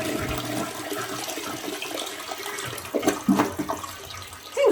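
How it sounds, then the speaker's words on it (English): A hotel toilet flushes with a rushing gurgle of water that swells and churns, followed by splashing and refilling sounds near the end, close and fairly loud with no talking. "Flush the toilet."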